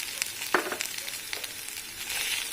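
Chopped onion sautéing in a pan for a potato stuffed egg bun filling, a soft, faint sizzle with a few scraping stirs, heard alone without voices.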